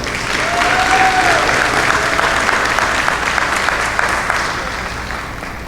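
Audience applause at a senior awards ceremony, a loud, sustained wash of clapping from a large crowd that slowly tapers off. A faint whoop rises over it early on.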